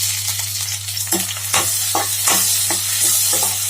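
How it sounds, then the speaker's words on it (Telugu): Onions, green chillies and curry leaves frying in a pan, a loud close sizzle with repeated scraping strokes of a stirring spoon and a steady low hum underneath. "ఆనియన్స్ ఫ్రై అయిన తర్వాత గ్రీన్ చిల్లీ కర్రీ లీవ్స్ వేసుకోవాలి."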